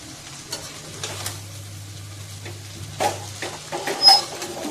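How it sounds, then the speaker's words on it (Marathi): Veg hakka noodles tossed in a pan with salt and finely chopped coriander, giving soft scraping stir strokes and light clinks over a faint steady sizzle, with a low hum beneath. "ते मीठ टाकले म्हणून थोडं मिक्स करून घेऊया."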